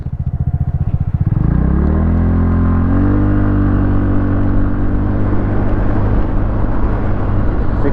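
A TVS Ntorq Race XP scooter in race mode pulls hard through a top speed run, its engine note climbing then holding a steady loud drone with wind rumble, close and continuous with no talk.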